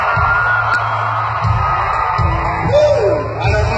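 Concert crowd at a show screaming and yelling in a sustained, loud roar, with a dense wall of many voices swelling and dipping throughout.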